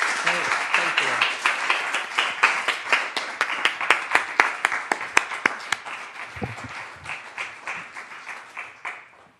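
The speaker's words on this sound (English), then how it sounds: "I'd also like to give another round of applause" An audience applauds at an evening fireside chat event, a dense sustained round of many hands clapping close by for about nine seconds, gradually thinning toward the end, with a voice faintly underneath.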